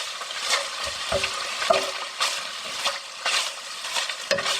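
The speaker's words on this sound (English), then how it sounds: "Now we're going to stir this around." Beef fries in an oily pan for Korean beef rice bowls while being stirred, with bursts of sizzling and scraping utensil strokes recurring irregularly, close and fairly loud, with no speech.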